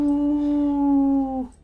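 A dog in Resident Evil 2 lets out a single sustained, tonal howl-whine that holds steady for over a second, then drops and fades out, close and clear, with no talk over it.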